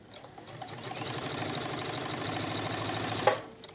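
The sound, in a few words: sewing machine stitching stretchy fabric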